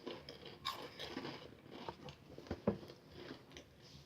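Crunchy ketchup-and-onion flavored potato chips being bitten and chewed up close, a run of irregular, crisp crackles with a few sharper crunches standing out, no talking.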